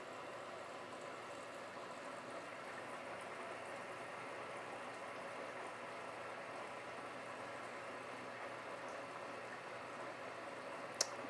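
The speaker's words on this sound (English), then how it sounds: "It should be filling back up with water now. So now it's gonna start the rinse process at 23 minutes." A Black and Decker portable washing machine fills with hot water for its rinse cycle, giving a steady, even rushing hiss that runs unbroken throughout with no voices.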